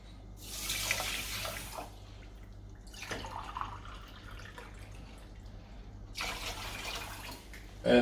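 Water poured into a pot of basmati rice for cooking, in three splashing bursts separated by quieter pauses, with a low steady hum underneath.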